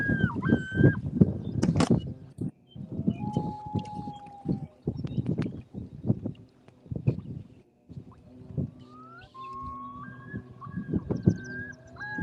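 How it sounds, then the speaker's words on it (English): A loon calls several times from a lake during a fishing tournament day, its long wavering tones drifting in and out over close rustling, thumps and handling noise from a kayak. "Whatever bird that is making that noise, my dogs are very interested in it."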